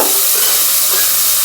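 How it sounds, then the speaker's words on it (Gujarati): Finely chopped tomatoes frying in hot oil in a pan, a steady close sizzle and hiss with light stirring, no voices. "ટમેટાને થોડીક વાર આપણે ચડવા દઈએ તેલમાં સાતળી નાખીએ"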